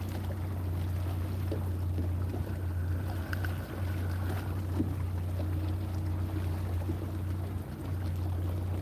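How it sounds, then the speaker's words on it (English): Wind gusting steadily over open water while out fishing on a boat, a constant low rumble and buffeting roar across the whole stretch, close and loud, with no voices. "Dag blasted wind."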